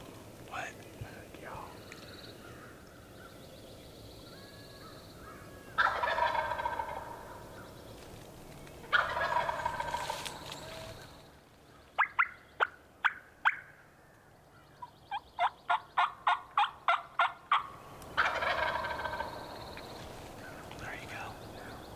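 Wild turkeys gobble in the field, several bursts of rapid rattling calls, some distant and some closer, with whispered talk from hunters between them and a quieter stretch of near silence.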